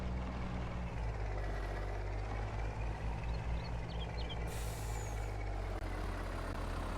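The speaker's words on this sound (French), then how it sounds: "Ah, j'aime pas le son du camion, il est dégueulasse." Truck engine in the farming game Farming Simulator 22, a steady low droning rumble with a brief hiss of air release near the end, heard alone without talk.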